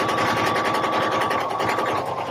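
A sewing machine stitches a Closet Case Patterns pouf in a steady, rapid mechanical chatter with a faint motor whine, heard close and alone for a couple of seconds.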